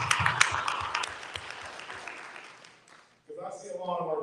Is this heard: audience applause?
yes